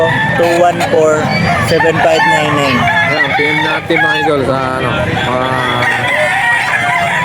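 Several roosters crow loudly in overlapping calls, one after another, at a pet market in Bocaue, while someone talks over them nearby.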